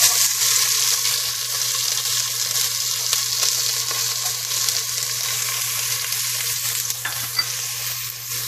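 Chopped onions and green chillies fry in hot oil with whole spices for bagara rice, a loud, even, close sizzle that hisses steadily throughout with faint stirring.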